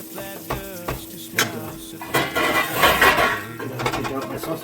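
Browned sausage is lifted out of a frying pan with a utensil, giving metallic scrapes and clinks against the pan over a soft oily sizzle, close and fairly loud, with no talking.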